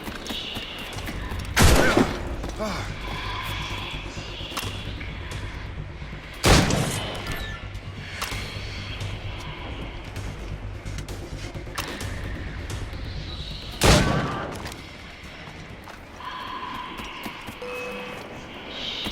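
Three loud, separate shots ring out at intervals of several seconds during an Assassin's Creed Rogue battle, with rumbling, mechanical ambience and faint background noise between them.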